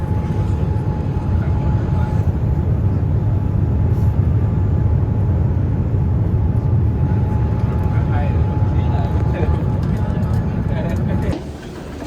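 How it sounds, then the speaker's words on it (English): Airliner landing at Narita Airport, a steady loud broadband cabin roar with a constant hum that holds for about eleven seconds, then drops abruptly near the end. "we're finally landing"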